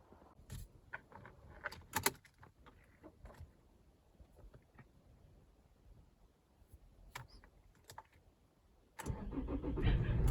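A Toyota Avensis 2.0 D4D diesel is started after a timing belt, roller and filter replacement: scattered clanks and jangling keys, then the engine fires near the end into a loud, steady running roar.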